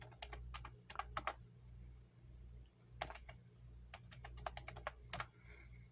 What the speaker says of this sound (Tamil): இப்போ நான் எல்லாத்தையும் ஸ்மால் லெட்டரில் டைப் பண்ணிக்கிறேன்